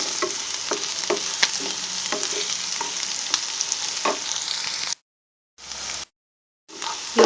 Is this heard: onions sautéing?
yes